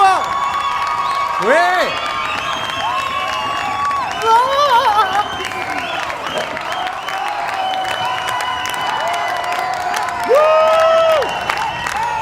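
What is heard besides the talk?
audience applause and cheering for Cyrine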